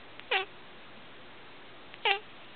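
A pet cat meows twice, each a short, clear, close meow about two seconds apart, alone without any singing or talk in between.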